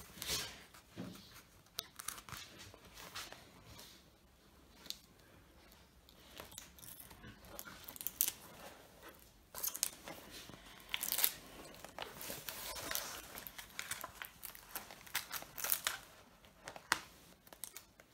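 Close, irregular crinkling, peeling and ripping of sticky packing tape from a parcel, in scattered bursts with quiet gaps, louder toward the end.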